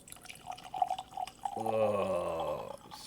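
Jameson Caskmates Stout Edition whiskey trickles and then pours steadily into a glass, the filling tone rising for about a second, heard close and fairly quiet.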